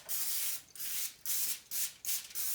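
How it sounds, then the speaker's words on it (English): Cooking spray misted in a light coat onto a pan for Christmas crack candy, four short hissing bursts separated by brief pauses, fairly close with no talking. "you want to spray your pan before you start putting your crackers on them"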